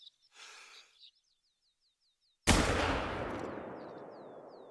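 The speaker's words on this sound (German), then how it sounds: "das war ein sehr guter Schuss." In the hunting video game The Hunter: Call of the Wild, a single sharp rifle shot cracks loudly after quiet chirping birdsong, then echoes and rumbles away as birds keep calling.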